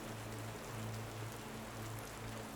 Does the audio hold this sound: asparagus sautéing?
no